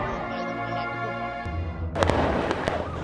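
Gunshots ring out in news footage of a violent incident: a low droning background gives way to a cluster of several sharp, loud cracks in quick succession, followed by scattered further reports.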